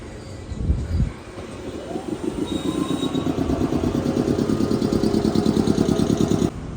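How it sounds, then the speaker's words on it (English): A cat-themed train in Japan rides along after a brief bump, its rhythmic clatter and rumble building into a steady, close pulsing that stops abruptly near the end. "And here's our return ride, a different cat-themed train."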